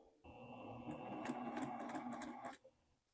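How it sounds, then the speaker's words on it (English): A sewing machine stitches a quilt block in a steady continuous run of about two seconds, starting and stopping abruptly, close and moderately loud with no talking. "So we're going to start sewing."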